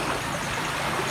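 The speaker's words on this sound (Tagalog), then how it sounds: "lakas talaga ng agos nyo" Strong floodwater current rushing across a flooded farm field, a dense, continuous hiss and churn of moving water heard close and alone.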